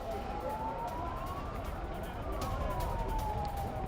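Emergency sirens wail from an ambulance convoy leaving a tunnel rescue site after workers were freed, rising and falling tones over heavy rumbling traffic and crowd noise, fairly loud and continuous.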